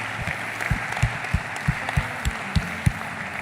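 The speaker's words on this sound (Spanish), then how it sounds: "Denle un aplauso al Rey de Reyes si lo cree de todo corazón." A church congregation applauds during a Spanish-language sermon: a broad wash of clapping over regular, evenly spaced low thumps that keep a steady beat.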